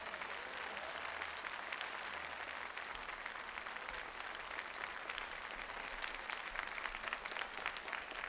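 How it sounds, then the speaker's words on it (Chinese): A studio audience on a televised show applauds to welcome an 87-year-old veteran, sustained even clapping throughout, fairly faint and steady. "接下来，让我们掌声有请"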